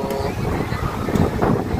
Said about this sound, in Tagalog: Kaya lang yung hangin sadyang napakalakas pa rin, no?